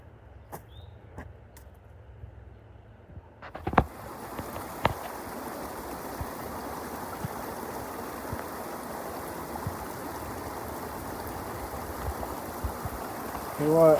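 A Connecticut stream of clean, clear water flows with a steady, soft rushing that continues throughout, after a few light knocks and footsteps near the start.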